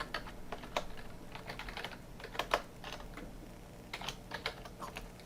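A computer keyboard is typed on in irregular bursts of close, crisp key clicks with short pauses between, no voice heard.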